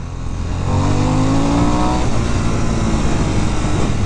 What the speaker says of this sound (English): This motor is really something else.